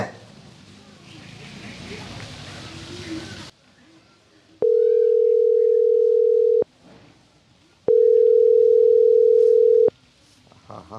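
Telephone ringback tone on an outgoing call, two long steady electronic rings separated by a pause, loud and clear after a stretch of muffled background noise.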